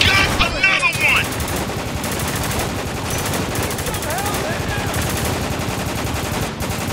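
Rapid automatic gunfire and scattered shots from the war shooter Spec Ops: The Line rattle continuously at steady loudness, dense and close, with a brief burst of higher effects near the start.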